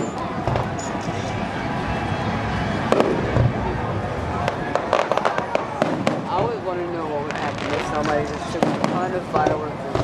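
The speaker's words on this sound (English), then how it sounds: "Watching the fireworks." Fireworks at a carnival on South Padre Island, with a steady run of popping and crackling bursts that stay loud throughout, mixed with crowd noise and people talking nearby.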